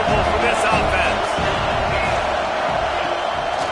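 Stadium crowd at a college football game, a dense continuous roar of voices filling the air, loud and unbroken beneath an announcer's commentary.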